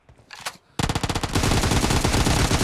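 Rapid automatic gunfire from the video game PUBG Mobile follows a brief quieter sound, then comes as a dense, loud burst of fast shots that lasts to the end.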